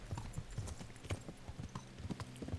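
Horse hooves clip-clop in a steady trotting rhythm in Kingdom Come: Deliverance, a medieval game, with close, evenly spaced thuds and faint background ambience.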